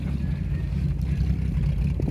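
A 1941 Chevrolet Special Deluxe's engine burbles low and steady from the exhaust at the rear, a continuous rumbling idle heard up close without any talk.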